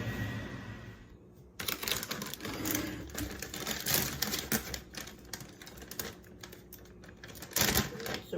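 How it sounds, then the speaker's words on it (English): A knife chops garlic on a cutting board, beginning with a sudden onset and continuing as a dense run of rapid, close, sharp taps and clatter. "We're gonna cut some garlic."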